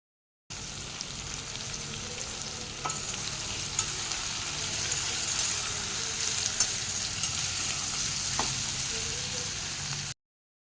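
Cut ivy gourd pieces fry in a pan, a continuous close sizzle broken by occasional light clicks of stirring.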